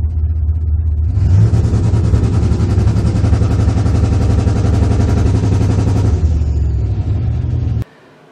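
A turbocharged car engine holds on a two-step rev limiter with the foot brake on and builds about 5 psi of boost. A loud, steady, rapid popping stutter runs for about six seconds, then the engine eases off and stops abruptly.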